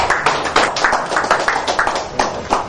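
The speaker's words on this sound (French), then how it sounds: "Si nous pouvons l'applaudir pour l'encourager." An audience claps at an album launch ceremony, brisk irregular hand claps from a small crowd, fairly close and steady for a few seconds, with no speech over it.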